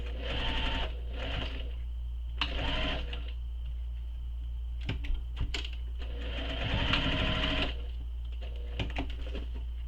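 A sewing machine runs in several short bursts while stitching a shoulder bag's lining, close and fairly quiet over a steady low hum, with pauses between runs and no talk.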